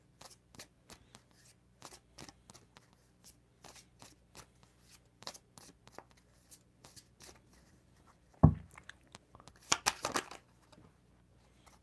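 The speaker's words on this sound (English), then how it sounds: "I'm going to put them back in and give them a shuffle" A deck of cards is shuffled by hand, with soft riffling flicks at a steady pace that end in a sharp knock and then a louder, quick flurry of shuffling near the close.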